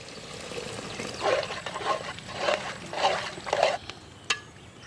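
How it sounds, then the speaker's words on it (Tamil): Water is added in several splashing pours and sloshes to a chana dal and mutton gravy cooking outdoors in a village kitchen, five distinct bursts spaced about half a second apart, then a metallic clink. "தண்ணி சேர்த்துக்கலாம்."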